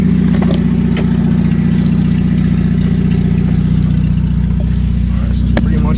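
A light Chevrolet S-10 pickup truck engine idles with a close, loud and steady low rumble, with faint clicks and knocks over the top.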